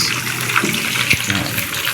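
Water running from a faucet into a sink with two taps in an outdoor dirty kitchen, a close, steady rushing stream heard alone for a couple of seconds.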